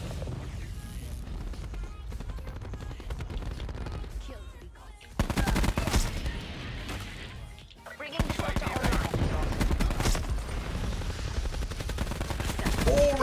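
Rapid automatic bursts from the Swat RFT assault rifle in Black Ops 4, loud and sustained with a short lull before resuming, a talking voice running underneath the repeated volleys.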